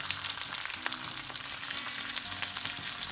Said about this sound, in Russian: на оливковом масле с добавлением чеснока мы обжариваем креветки